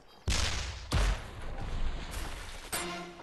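A freeze cannon fires in the Crash of Cars video game, giving loud broadband blasts at the start and near one second, followed by sustained noisy rumble and another burst near the end.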